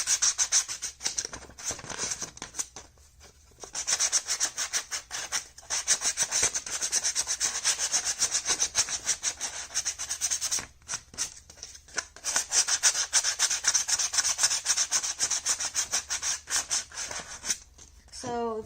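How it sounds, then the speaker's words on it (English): Edges of armor pieces are sanded smooth, giving continuous rapid rasping strokes in bursts with brief pauses, close and fairly loud, with no talking. "make sure all of your edges are sanded down, smooth to a smooth edge"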